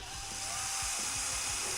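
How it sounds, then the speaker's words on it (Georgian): A Trotec PSCS 11 12V cordless screwdriver runs steadily with a loud, high whirring motor whine and faint low knocks underneath, heard close and without speech. "თუ როგორ სიჩქარები გვინდა ვამუშაოთ სახრახნისი."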